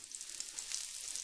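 Olive oil trickling across a hot griddle pan, a faint but steady high sizzle for about a second.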